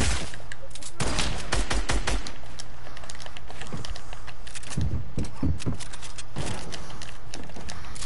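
Gunfire from a video game, rapid bursts of sharp shots and fusillades in fast clusters throughout, loud and close, with a faint voice at times.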